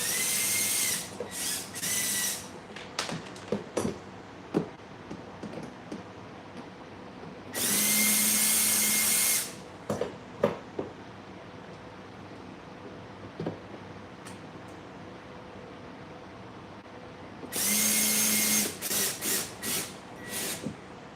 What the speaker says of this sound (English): if you have this the drill handy, it's better, easier.